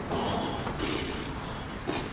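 A performer imitates snoring during a children's show at a school, giving a couple of rough, breathy rasps close to the microphone.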